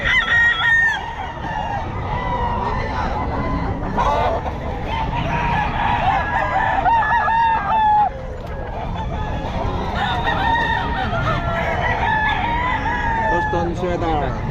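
A Boston Sweater gamefowl rooster crows repeatedly at a busy pet market, loud and close, among other roosters crowing and clucking, with people talking in the background.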